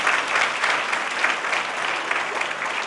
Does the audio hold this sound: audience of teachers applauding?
yes